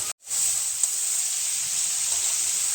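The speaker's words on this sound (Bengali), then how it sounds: "এবার চিংড়ি মাছ ভাজার তেলের মধ্যে দিয়ে দিলাম কুচনো পেঁয়াজ। পেঁয়াজটা হালকা ভেজে নেওয়ার পরে এখানে দিয়ে দিলাম কুচিয়ে নেওয়া আলু" Chopped potato and onion sizzling in oil left from frying prawns, a loud, steady hiss right after they hit the pan, close and unbroken.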